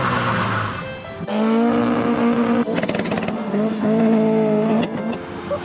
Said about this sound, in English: Burnout.